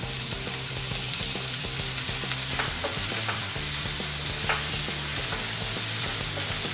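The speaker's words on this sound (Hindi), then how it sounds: "येलो और ग्रीन बेल पेपर डालेंगे।" Red, yellow and green bell peppers stir-frying in a pan for pizza puri, giving a loud, continuous sizzle with steady stirring and scraping throughout and no voices.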